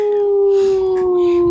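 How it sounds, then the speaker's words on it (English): A pet dog howls in a sustained, steady, loud, close tone that holds throughout without a break. "can you get him to howl?"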